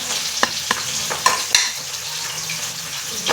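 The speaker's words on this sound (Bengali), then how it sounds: "আর একটু হয়ে যাবে সুন്দর করে ভাজা।" Pabda fish frying in a pan, a steady close sizzle with a few sharp spatter pops and light utensil clicks, no voices.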